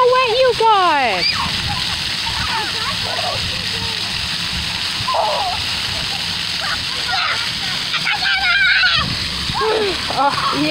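Water sprays and splashes steadily at an outdoor splash pad, a continuous close rushing spatter while children shriek and people talk over it.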